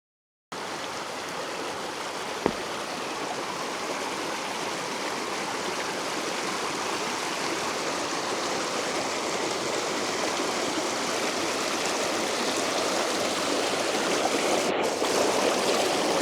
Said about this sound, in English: Get some water from the river here.